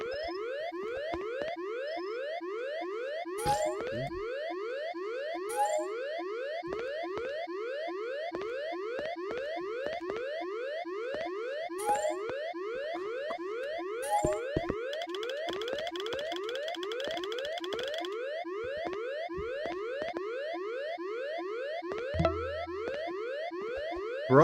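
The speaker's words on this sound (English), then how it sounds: "that stupid ass alarm again" A loud electronic alarm goes off nonstop on a bus, repeating rapid rising chirps in a steady rhythm, with occasional clicks and clunks underneath.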